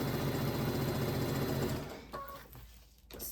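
A sewing machine stitches striped quilt pieces in a fast, steady, close mechanical chatter, then slows and stops after about two seconds. A few faint handling clicks follow, and no one speaks.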